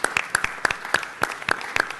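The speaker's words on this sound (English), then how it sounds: "Let's give them a round of applause for all of your service." A small group applauds at a city council meeting, with sharp, distinct claps in a quick, fairly regular rhythm that continues steadily and close by, with no talking over it.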